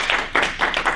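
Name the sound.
round of applause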